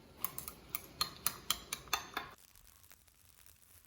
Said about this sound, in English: 200 milliliters of water, and some white wine yeast, half a teaspoon, and stir that for a minute.